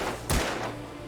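A single gunshot from the Alan Wake video game, one sharp loud blast near the start followed by a short decaying tail over a low background drone.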